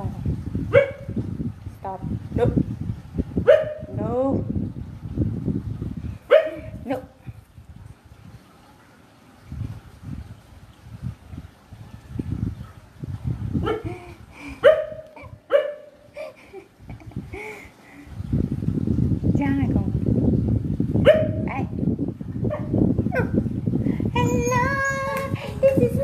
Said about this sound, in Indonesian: Jangan gonggong, dimarahin orang kau nanti.